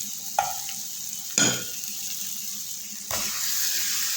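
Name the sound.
stirring cheese into a pan with spices and luncheon meat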